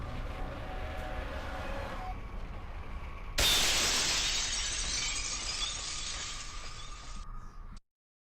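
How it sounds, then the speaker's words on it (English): Generic glass shattering in the F.E.A.R. shooter game: a sudden bright crash of breaking glass cuts in over low rumbling game ambience, then a long tinkling spray of shards that stops abruptly. "Love generic glass shattering sound effects."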